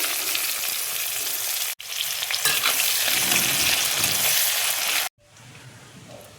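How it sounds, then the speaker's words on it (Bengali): Chopped onion fries in melted ghee in a wok, giving a loud, dense sizzle that stops sharply for a moment, returns steady, then drops to a quieter hiss near the end. "এবার আমি পেঁয়াজ কুচি দিয়ে দিচ্ছি।"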